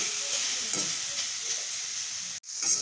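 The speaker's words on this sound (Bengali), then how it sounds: "খুন্তির সাহায্যে নেড়ে দিচ্ছি" Grated coconut is being stirred with a spatula in a hot wok for bhapa pitha, giving a steady sizzling hiss with soft scraping strokes and a brief dropout near the end.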